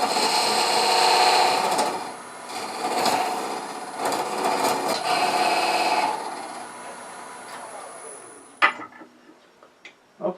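A wood lathe cuts a small dovetail into a spinning Norfolk Island pine blank, giving a steady close scraping and whirring for about six seconds. It then fades out, followed by a few sharp knocks and taps.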